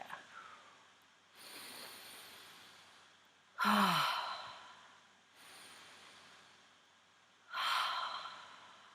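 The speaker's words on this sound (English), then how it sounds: "then some big goddess breaths" A yoga class does deep goddess breaths, slow heavy exhalations and inhalations that come in long audible waves, four breaths in a quiet room, each swelling and fading.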